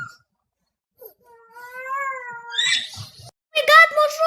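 A cat meows with a drawn-out, rising and falling cry, then gives a louder, sharper meow near the end. A voice can be heard briefly between the calls, and the whole thing is close and clear.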